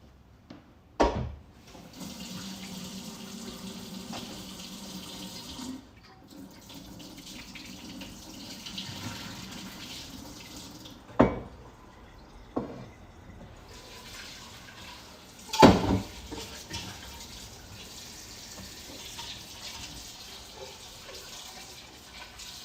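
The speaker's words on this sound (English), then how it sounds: "I'm gonna use this same pot to strain and wash them" Tap water runs steadily into a pot while food is strained and washed, with a few sharp clanks of the pot standing out over the continuous, fairly quiet splashing.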